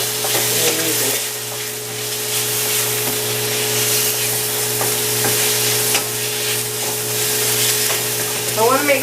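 Lean tenderloin meat frying in a pan for fried rice gives a steady, close, loud sizzle with the repeated scrape and clatter of stirring throughout.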